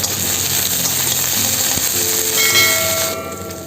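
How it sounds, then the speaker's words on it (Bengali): Chopped spring onion greens hit hot oil in a pan with capsicum for a dhaba-style egg curry, giving a steady, close sizzling hiss that swells slightly near the end. "কেটে রাখা পেঁয়াজ পাতাগুলো দিয়ে দেব"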